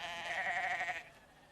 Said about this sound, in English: And the sheep lick the ball in the middle, like that one's doing